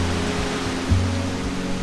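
Falling water from a waterfall at Eynort on the Isle of Skye makes a constant hiss-like rush, even and fairly loud throughout, with faint low hum beneath and no voices.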